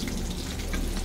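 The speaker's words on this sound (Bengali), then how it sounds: "দেখুন তেল কিরম করে টপকাচ্ছে" Hot oil crackles and spatters in a pan while morola fish fry, a loud, dense burst of sputtering hiss with no speech.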